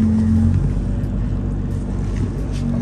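A Nissan 350Z engine runs rough and noisily up close, a steady loud low rumble with a droning tone that holds for nearly three seconds with no talking.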